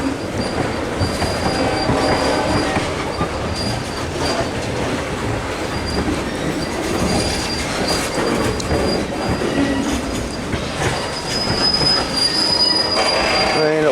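A Wheeling and Lake Erie tank train hauled by two SD40T-2 locomotives rolls across the diamond at Brewster, Ohio, with loud, sustained wheel squeal over rumbling cars and steady clicking at the rail joints.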